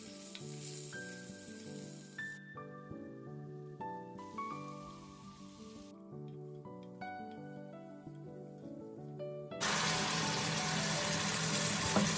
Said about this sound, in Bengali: পটলটা ভাজা করব